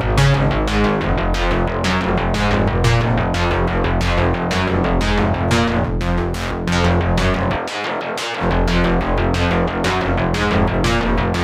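Old school EBM bass synth with two layered sounds playing a driving, relentless sequence of punchy sixteenth-note pulses, loud and continuous with a brief dropout near the end.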